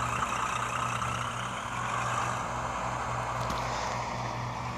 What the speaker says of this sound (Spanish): vamos a prender el motor aquí